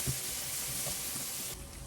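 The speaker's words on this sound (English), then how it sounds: "So we have to fry until it turns golden color." Onions or spices for a Hyderabadi chicken curry frying over high heat, a dense, steady sizzle and hiss close up, with a few faint stirring scrapes and no speech.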